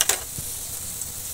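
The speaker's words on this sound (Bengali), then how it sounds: "পেঁয়াজ একদম খুব সুন্দর করে ভেজে নিয়েছি।" Onions fry in a pan for a Bengali river fish curry, giving a steady, close sizzling hiss with a brief clatter at the start and a soft knock shortly after.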